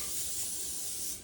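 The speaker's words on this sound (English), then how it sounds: "So I'm just gonna spray it." A short, continuous hiss of cooking oil spray coats bread dough for a pink Valentine's bread, close and steady with no talking.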